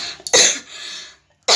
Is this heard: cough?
yes